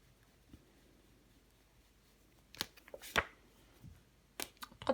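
Tarot cards shuffled and laid down on a table during a French reading: a few quiet crisp card snaps and slaps in the second half, after a near-silent start.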